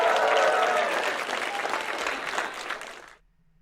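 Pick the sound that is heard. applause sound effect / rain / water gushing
applause sound effect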